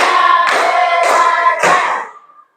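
Three sharp claps, close and loud, in a classroom clapping routine, evenly spaced with a ringing tonal layer over each and a short fade at the end.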